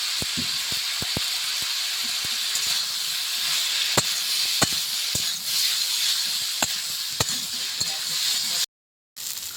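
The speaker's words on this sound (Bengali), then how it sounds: "এবার চিরা কাঁচা লঙ্কাগুলো দিয়ে দেবো।" Slit green chillies sizzling in hot oil in a pan, a continuous close hiss broken by scattered crackles and pops, ending in a brief silence before the sizzle resumes.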